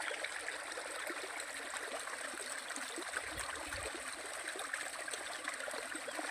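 Irrigation water carrying fertilizer flows along a channel into a turmeric field, a steady soft trickling and burbling stream, faint and continuous with no voices.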